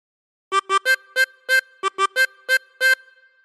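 Close, clean tremolo harmonica blowing a phrase of Old McDonald Had a Farm, ten short detached notes in a bouncy, slightly uneven rhythm with a brief gap midway and no talking.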